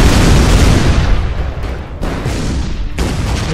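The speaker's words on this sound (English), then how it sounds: "Uh-oh, fireworks." Fireworks weapon detonating in the artillery game ShellShock Live, a dense run of loud booming blasts and crackling bursts that keeps going with brief dips, without any voices over it.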